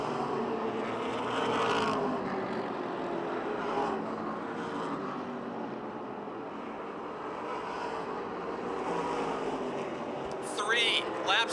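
Engine roar of race cars circling an oval speedway at the Motordrome, a continuous droning rumble with cars passing, heard under a commentator's voice.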